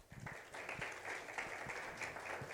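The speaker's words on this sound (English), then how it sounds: "Everyone give him a round of applause." An audience at a business summit claps to welcome a speaker to the stage. The applause is faint and distant but steady through the short stretch, with no talking over it.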